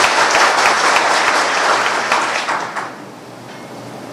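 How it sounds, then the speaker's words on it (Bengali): A crowd applauds at the opening of an airport VIP lounge, dense clapping loud at first and then thinning and fading toward the end, with no voices. "আসিফ নজরুলের জন্য আমরা একটা জোরে হাততালি দিয়ে"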